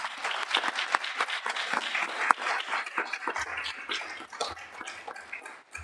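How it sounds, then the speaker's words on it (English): A moderate round of applause from the audience at a school board meeting, dense scattered clapping that thins out toward the end, with a low voice starting to speak under it. "let's give her a round of applause."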